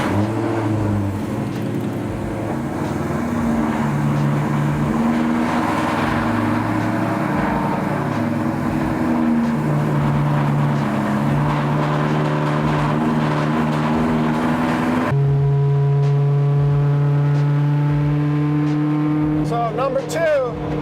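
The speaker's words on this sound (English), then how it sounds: "car is extremely loud." A loud, droning BMW E92 M3 track car engine rumbles and revs continuously, with pitch rising and falling, then a sharper rev with climbing tones near the end.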